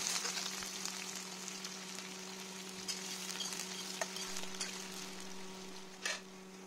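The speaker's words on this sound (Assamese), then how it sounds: "এতিয়া মই এইখিনি তেলতে পিঁয়াজখিনি ভাজি ল'ম।" Onions frying in hot oil in a pan, a soft continuous sizzle with scattered pops and a few stirring scrapes, close and fairly quiet, no talk.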